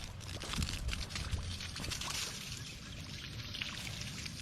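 Water from a Drummond 1/2 HP non-submersible transfer pump hose runs off down a hill, a continuous splashing, trickling pour that stays steady and close throughout.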